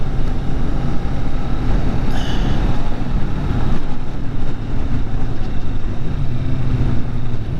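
Steady engine drone and road rumble from a 2020 Kawasaki Vulcan S motorcycle cruising along, loud and continuous with wind noise, no talk.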